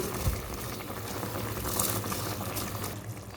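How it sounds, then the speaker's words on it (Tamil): Mushroom biryani liquid simmering in a pot with a low, steady bubbling and a soft hiss, close and moderately quiet, with no voices. "இப்போ இது ஒரு 2 நிமிஷம் நல்லா கொதி வரட்டும். பாருங்கள், நல்லா கொதிச்சு காயுது."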